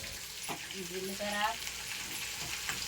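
Cumin seeds sizzle in hot oil with a steady, fairly close hiss that runs throughout, while a voice speaks briefly over it.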